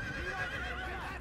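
A horse neighs in Assassin's Creed, a loud drawn-out whinny that dominates the short moment with no voices over it.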